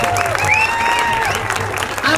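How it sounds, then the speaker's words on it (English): Rally crowd in Santa Rosa applauding and cheering for an organizer who is president of a bilingual radio station, a loud, dense wash of clapping and voices, with speech audible through the noise. "Please give a round of applause."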